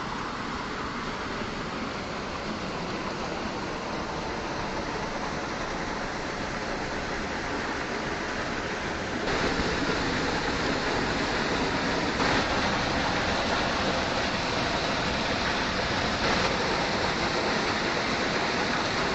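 Lake water at Pajar Talao near Vasind spilling over a corner of its edge, a continuous loud rushing like a small waterfall that swells slightly louder partway through, with no talking.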